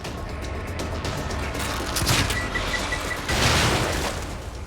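An explosive crossbow bolt in The Evil Within goes off as a dense, crackling boom amid game noise, with two louder bursts swelling near the middle and the end.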